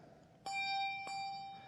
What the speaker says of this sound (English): the primary bell rings again